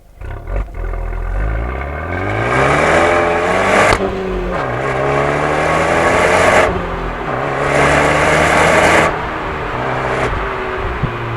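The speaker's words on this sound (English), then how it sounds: "same clip, but just the sound of the exhaust mic'd up" Loud, throaty stock exhaust of a Fiat 124 Abarth revving repeatedly, climbing and dropping in pitch with a deep rumble and occasional crackles, heard close up at the exhaust without voices.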